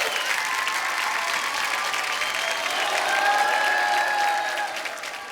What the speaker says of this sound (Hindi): एक बार सनी के लिए जोरदार तालियां।